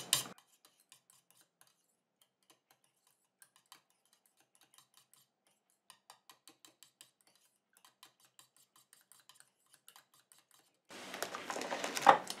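Face lotion is stirred in a small container, producing sparse light ticks and clicks of a utensil against the vessel, faint and close in near silence, with a louder scraping rustle at the start and end.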